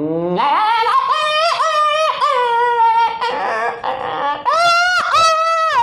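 A male performer vocally mimics a dog crying, a string of loud, close, wavering whimpering wails and sobbing yelps that rise and fall continuously for several seconds.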